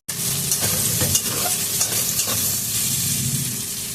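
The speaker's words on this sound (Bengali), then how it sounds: "কাঁচকলাগুলো আমার একদম ভালোভাবে ভাজা হয়ে গেছে" Loud, steady sizzling of green plantain slices frying in hot oil in a pan, with a few soft scraping stirs and no talking.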